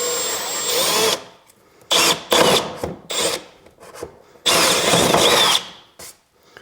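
A power drill bores a starter hole in wood while a slot is cut for a 3D printer enclosure. It runs in several close, loud bursts of whirring and grinding, separated by short pauses.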